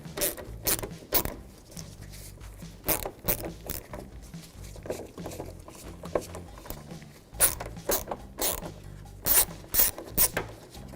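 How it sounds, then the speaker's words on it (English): A 10mm socket wrench undoing a bolt on a car's bumper and light trim, giving off repeated ratcheting rasps in short bursts with pauses between, close and moderately loud. "10mm socket. I'm going to undo the top one here first."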